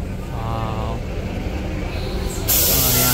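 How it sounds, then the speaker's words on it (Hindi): A truck pulls into the Durga Puja carnival procession in Kolkata amid crowd hubbub, then its air brakes release a sudden loud, sustained hiss that holds to the end. "और कालीघाट मिलोन शोंगो का जो है ट्रक आ रहा है"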